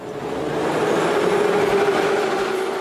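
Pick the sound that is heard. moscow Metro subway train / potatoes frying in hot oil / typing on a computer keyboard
moscow Metro subway train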